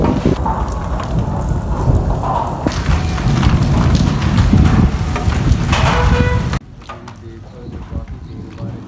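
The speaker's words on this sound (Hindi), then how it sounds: "बारिश पीछे काफ़ी तेज़ बारिश शुरू हो गई" Heavy monsoon downpour with thunder, a dense, loud roar of rain pounding surfaces with low rumbles mixed in, dropping abruptly to a quieter, steady patter near the end.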